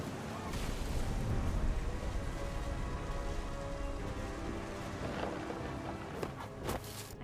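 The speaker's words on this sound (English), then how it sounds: "The thunder sounded much too close and full of angry power." Steady rain pours in What Remains of Edith Finch, a dense continuous wash filling the whole clip, with a few low rumbles of thunder rolling beneath it and brief sharper hits near the end.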